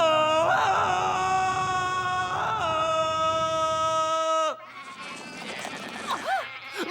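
A drawn-out, wavering sheep bleat sounding twice over a steady noisy bed, then cutting off into softer, warbling vocal sounds.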